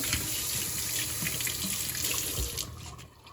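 Tap water runs into a sink onto dissolving packaging, a steady close hiss and splatter that stops abruptly near the end.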